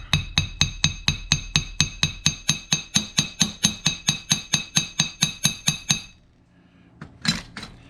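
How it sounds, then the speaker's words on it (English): A hammer taps metal on a small anvil in a fast, even rhythm, pointing the end of a jewelry bail, each strike ringing brightly, about two dozen blows, then a few scattered clinks after it stops. "you take your hammer, and again you want to take and tap"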